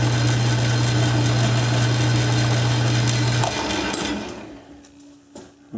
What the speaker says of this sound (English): While we're here, just chamfer that edge.